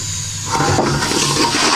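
Tap water gushing loudly while rice is rinsed in a home kitchen, a steady close splashing rush that swells after a brief quieter start.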